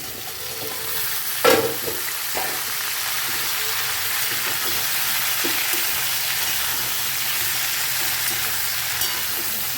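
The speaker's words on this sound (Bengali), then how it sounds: "দু মিনিট মতো ভাজবো মিষ্টি আলু আর মান কচু দিয়ে" Sweet potato and taro frying in oil among other vegetables in a pan, giving a steady close sizzle with a sharp clatter early on and a few faint stirring knocks, no talking.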